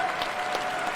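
Applause from a crowd at a BlizzCon announcement for WoW Classic Season of Discovery makes a dense, brief burst of clapping, steady and fairly loud.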